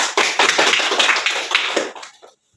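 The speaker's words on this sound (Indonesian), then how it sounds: "nanti tepuk tangan dulu untuk kita semuanya." Audience clapping at a stunting prevention and management training session, a dense burst of handclaps lasting about two seconds before stopping abruptly into silence.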